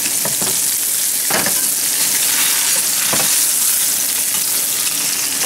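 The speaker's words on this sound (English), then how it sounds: "make sure the oil is hot so that way your fish doesn't stick to your pan" Fish fillet fries in hot oil in a pan, giving a loud, continuous close-up sizzle with a few brief scraping or splashing bursts, no talking.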